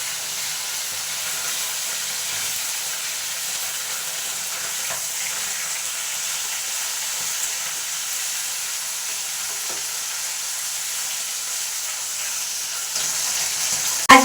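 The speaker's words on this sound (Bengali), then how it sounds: "এটা ভেঙে দিলে ভেতরে যে কাঁচা মাছটা থাকবে সেটা ভালো করে ভাজা হয়ে যাবে।" Raw fish frying in hot oil in a pan, broken up so the inside cooks through: a steady, close hiss and sizzle with faint stirring, ending in a brief louder crackle and no talking.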